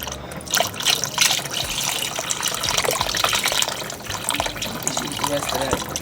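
Chicken juices poured into a pot of smoky poblano chicken and black bean soup, a steady close liquid trickle and splash with a voice speaking over it.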